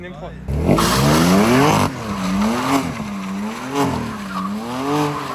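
A BMW M3 is driven hard nearby, its engine revving loudly with rising and falling pitch, while tires squeal and skid. Voices call out over the engine noise.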